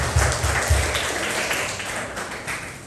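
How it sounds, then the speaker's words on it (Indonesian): A church congregation claps together during a Sunday service, a dense burst of applause that starts strong with a few heavy low thumps and tapers off gradually over about three seconds. "Tepuk tangan buat Tuhan."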